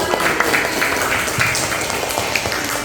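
Classroom applause for a student group, dense steady clapping from a roomful of students at close range, continuous through the short moment without a voice over it.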